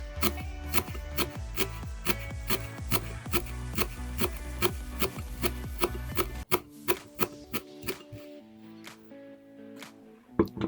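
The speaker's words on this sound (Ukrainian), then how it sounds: "Дрібно нарізаю кріп, щоб зверху прикрасити торт." A knife finely chopping dill rapidly and rhythmically on a cutting board, close and steady, slowing to a few scattered cuts near the end.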